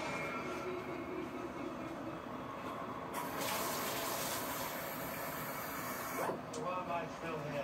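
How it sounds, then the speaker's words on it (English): Tap water runs steadily into a container for sourdough pretzel dough in a home kitchen, a continuous close rushing stream with a brief louder surge midway and no talking. "So I'm just going to get more water right away."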